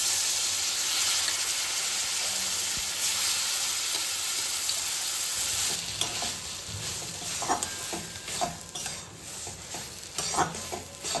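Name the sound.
mashed papaya frying and being stirred in a pan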